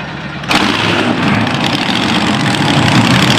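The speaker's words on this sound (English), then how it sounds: "Gentlemen, start your engines." Engines at a maple festival burst into life together with a sudden start, then settle into a loud, steady rumbling idle.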